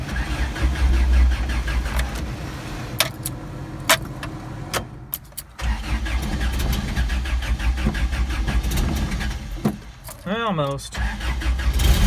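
A Toyota with carburetor trouble cranks and fires on a cold start, its engine settling into a rough, uneven idle that runs nearly throughout, with a brief lull partway through and a person speaking over it.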